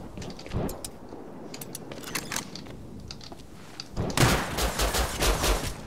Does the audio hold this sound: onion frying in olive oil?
no